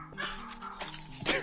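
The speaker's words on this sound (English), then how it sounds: "all the dogs are going crazy now" Dogs in the game Voices of the Void bark and yip excitedly in a quick irregular burst, several overlapping calls ending in a louder sharp bark, near and moderately loud.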